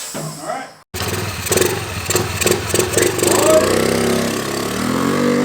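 A 2022 Honda Navi scooter fitted with a Malossi variator starts up and is ridden, its small engine droning loudly and revving in pulses, then holding a steady, rising tone close by.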